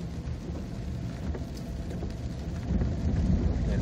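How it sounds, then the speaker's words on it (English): A strong rainstorm in a burned-out California area: steady, dense rain hiss with low rumbling thunder swelling louder toward the end, no voices. "Strong storm moved through."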